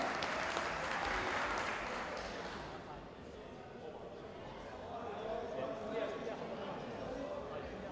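Audience applause fills an arena during a timeout at a men's kabaddi match between India and Iran at the Asian Championship, a dense, steady clapping from a large crowd that eases slightly midway and swells again.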